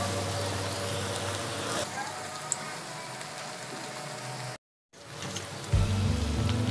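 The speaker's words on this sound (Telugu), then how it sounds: "బ్రెడ్ పీసెస్ ని మొత్తం ఇలా డీప్ ఫ్రై చేసుకోవాలి" Bread pieces deep frying in hot oil in a pan give a dense, continuous crackling sizzle, close and steady, with a brief cut partway through and a low hum afterward.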